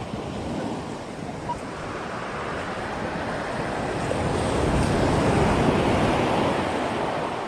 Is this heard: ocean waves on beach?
yes